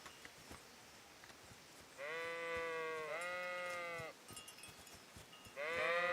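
Sheep bleat across a field in the game Kingdom Come: Deliverance, a few drawn-out wavering calls separated by quiet gaps, fairly close and clear.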